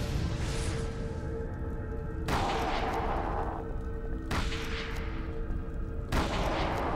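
Shotgun blasts in Call of Cthulhu: Dark Corners of the Earth, four heavy booming shots spaced a couple of seconds apart, each with a long rumbling tail over a constant low background.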